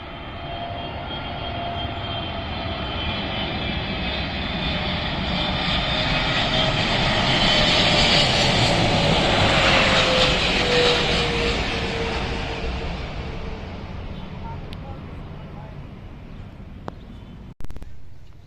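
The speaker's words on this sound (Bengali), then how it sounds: "বাংলাদেশ এয়ারলাইন্সের বোয়িং 777 মডেলের বিশাল বড় একটি বিমান।" A Biman Bangladesh Airlines Boeing 777 on approach into Dhaka passes overhead. Its jet roar swells from a distant whine to a loud, broad rush at its peak, then fades slowly, and a brief knock sounds near the end.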